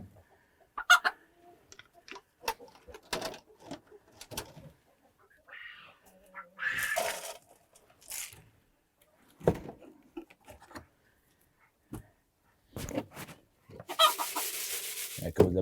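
Hens following a person cluck in scattered short bursts, near and fairly quiet, with rustling and scuffing noises between the calls.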